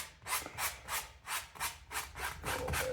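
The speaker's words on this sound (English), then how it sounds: "So we're just scraping. I got my basic outline. Scrape a lot of the excess off." Excess wet oil paint is scraped off a wet-on-wet landscape painting in quick, even back-and-forth strokes, about two per second, rasping and close with no talking.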